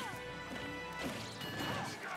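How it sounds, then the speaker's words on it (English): A forward smash lands in a Super Smash Bros. for Wii U doubles grand final, a sharp crashing hit amid dense game music and crowd noise, with further impacts and commentary-like voices layered throughout. "And then he just F smashes"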